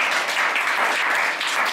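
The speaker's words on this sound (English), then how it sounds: "Please give him a round of applause and welcome." Steady audience applause fills the moment, dense and even throughout, a crowd of listeners clapping together at a venture capital meet-and-greet event with no voices breaking through.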